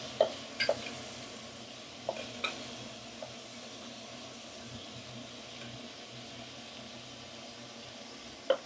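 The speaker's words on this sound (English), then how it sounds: "I'm gonna turn the shrimps." Shrimps frying in a pan for a seafood fideuà, with a steady low sizzle and a few sharp clinks as they are turned with a utensil near the start and end.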